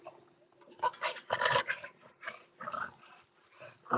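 A dog panting quickly with breathy huffs broken by soft whimpers and whines, close and fairly loud in a quiet indoor room, no talking.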